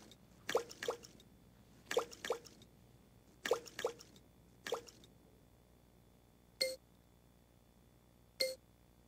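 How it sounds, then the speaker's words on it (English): Copper sulfate solution dripping through a filter, a few separate drops and plops spaced out over several seconds, some in quick pairs, faint and alone in a quiet room. "Filter the impurities from the solution."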